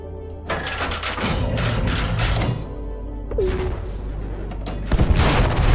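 Deep booms and heavy thuds of a torpedo blast hitting an enemy battleship in the space battle game Conflicks, with rumbling low impacts swelling over several seconds and a sharper burst near the end.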